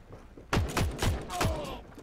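Video game gunfire comes as a rapid string of four or five loud, close shots with reverberant tails, set against low background game noise.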